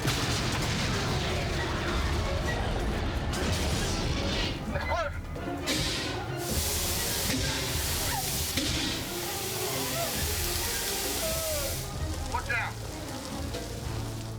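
Debris from a film set explosion rains down as a dense, continuous crackling hiss that rattles and patters throughout, loud and close, with scattered sharper impacts.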